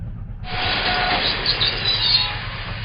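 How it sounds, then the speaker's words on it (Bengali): A train runs at speed through the dark, its rolling rumble and rattling wheels swelling in abruptly and then holding a steady, loud roar, with a faint high squeal riding on top. "ট্রেন তখন সশব্দে অন্ধকারের বুক চিরে ছুটে চলেছে"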